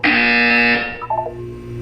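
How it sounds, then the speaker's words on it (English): Electronic buzzer from the Portal 2 video game test chamber: a loud, steady tone for about three-quarters of a second, followed by a brief quieter chime-like flourish and a low lingering hum. "When you hear the buzzer, look up at the ceiling."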